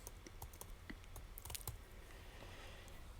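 Quick bursts of light key clicks on a computer keyboard, faint and close, with short pauses between runs of typing.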